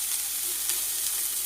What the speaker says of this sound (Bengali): পেঁয়াজটা হালকা ভাজা ভাজা হোক,